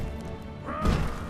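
Smashing objects in the LEGO The Hobbit video game, a short crunching crash with a rising chime over a background game score.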